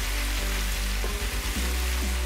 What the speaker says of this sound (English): This means my oil is hot enough to cook my onions. So I'm going to put my onions.